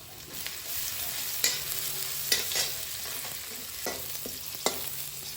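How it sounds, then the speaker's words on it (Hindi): Chopped green chilies hitting hot oil with garlic in a pan, a loud continuous sizzle with occasional sharp crackles and pops as the pieces fry, no voices. "अब हम इसमें कटी हुई हरी मिर्च डाल देंगे।"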